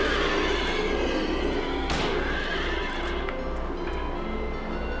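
Horses neigh and whinny amid the Silent Hill 3 game audio, with clip-clop hooves and a dense droning backdrop throughout, one sharp burst near the middle standing out loudly.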